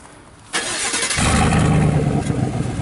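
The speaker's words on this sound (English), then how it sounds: "Now I'll let you hear it while it's warmed up and started." A 2019-2020 Chevrolet Silverado with its muffler deleted cranks briefly and fires up, already warmed to temperature, settling into a loud, steady rumbling idle close by.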